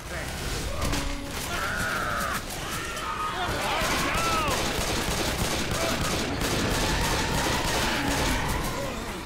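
Rapid gunfire from a Left 4 Dead 2 game, dense and loud bursts running nearly throughout, with voices talking over the shooting.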